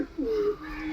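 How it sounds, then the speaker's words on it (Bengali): A pigeon kept in a loft gives a short, soft cooing call, a pair of low, gliding tones heard fairly close in a quiet setting. "সকাল সকাল আজ লফটের কবুতর আপনাদেরকে দেখাচ্ছি।"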